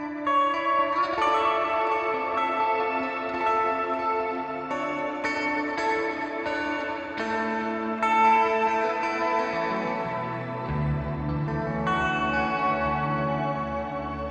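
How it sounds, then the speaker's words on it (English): Clean electric guitar played through a NUX MG-30 V5 multi-effects unit with dual time delay, shimmer reverb and chorus, ringing chords and melodic notes washing into long echoing trails, steady and alone with no talk. "for the clean sound, I'm using the duo time delay, and I also have a shimmer reverb here. And I also have a chorus"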